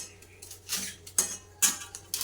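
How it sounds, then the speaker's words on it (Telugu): A knife chops fresh amaranth leaves in a home kitchen, giving four or five crisp, close cutting strokes about half a second apart over a faint steady background hum. "తోటకూర అయితే ఇప్పుడు కోస్తున్నాను."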